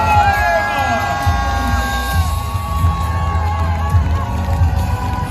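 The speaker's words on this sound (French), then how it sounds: "Mesdames et messieurs, un tonnerre d'applaudissements pour Johan Richomme!" A loud crowd cheers and whoops at the Vendée Globe finish of a sailing race skipper, with shouting voices and a horn-like tone over continuous crowd noise throughout.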